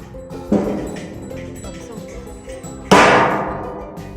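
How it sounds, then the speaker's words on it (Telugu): A coconut is smashed open at a Krishna temple: two sharp, cracking impacts, the second louder, each ringing out with a resonant echo that fades over a second or so. "ఆ కొబ్బరికాయ కొడుతుంటే అసలు రీసౌండ్ వస్తుంది"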